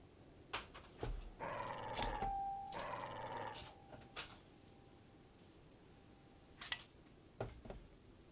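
A dog in the video game The Legend of Zelda: Tears of the Kingdom gives several short whines and barks, nearby and moderately loud, between sharp game clicks and quiet background.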